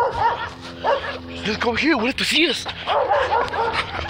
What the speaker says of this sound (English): The dog is coming.